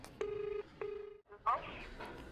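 A phone keypad sounds two long steady dial tones, then a brief break before a burst of chatter and room noise, with people talking in the background throughout.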